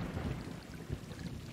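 Rain starting in the video game Stray: a steady wash of falling rain with soft low rumbling, fairly loud and continuous, with no talk.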